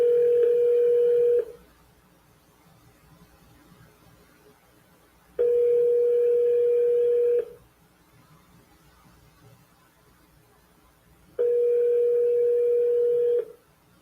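A telephone sounds three steady tone signals of about two seconds each, spaced evenly with silent gaps between them, clear and close.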